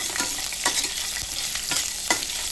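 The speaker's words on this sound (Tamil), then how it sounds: "முந்திரி போட்டு நல்லா ரோஸ்ட் பண்ணிக்கோங்க" Cashews, green chillies and curry leaves frying in hot oil, a dense close crackling sizzle with a few brief scraping stirs, alone and steady throughout.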